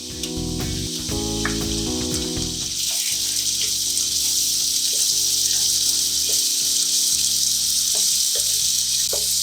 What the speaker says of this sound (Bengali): এবার আমি এতে আদা রসুনের পেস্টটা দিয়ে দিচ্ছি।